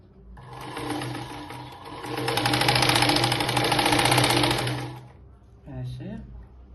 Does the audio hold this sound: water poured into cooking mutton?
no